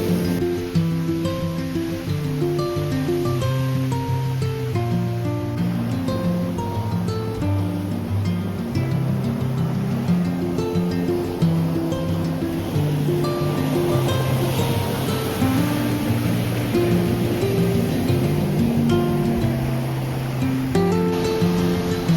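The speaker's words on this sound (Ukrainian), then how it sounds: "Сьогодні дуже сильно штормить." Rough, stormy sea waves surging and crashing continuously at a beach in Malaga, a loud, dense roar that never lets up.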